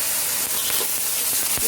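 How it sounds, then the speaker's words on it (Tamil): Ridge gourd peel sautéing in a hot pan makes a continuous close sizzling hiss with small crackles and no pauses. "நம்ம பீர்க்கங்காயோட அந்த தோலை வந்து நம்ம போட்டு இன்னும் நல்லா வதக்கிக்கிட்டு"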